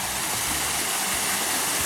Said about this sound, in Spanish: una bella, bella, bella cascada